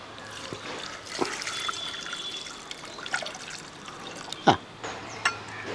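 Water poured into a pot of sugar and cashews for a Kerala-style payasam, a soft close trickle and gurgle running under quiet room noise, with a few sharper knocks and drips near the end.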